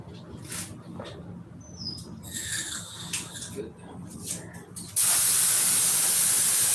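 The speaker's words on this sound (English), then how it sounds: "I got some of this 2K clear I could spray on it" 2K clear coat being sprayed from a spray can, a loud, steady hiss that starts abruptly and holds for the last couple of seconds after quieter scuffs and squeaks, with faint talk beforehand.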